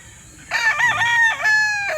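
A Boston Black rooster crows once, close and loud, holding a strong drawn-out call for about a second and a half against a quiet background.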